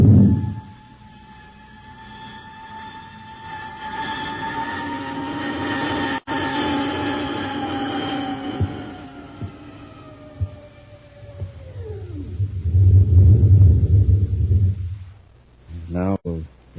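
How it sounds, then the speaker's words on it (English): A radio-drama spaceship landing effect: layered electronic tones slowly sweep downward over a steady hum, then a heavy low roar swells near the end and cuts off with a short warbling burst. "We're coming in for a landing."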